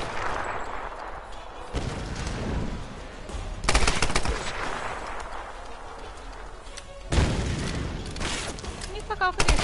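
Heavy gun blasts in the video game Tomb Raider 2013, the weapon being a shotgun: a few loud, booming shots spaced seconds apart over continuous game noise, with a voice talking in between.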